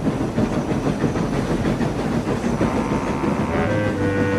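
Steam locomotive chugging at a slowing pace, a continuous dense rumble with rapid chuffs and hissing steam, loud and close, with no talking over it.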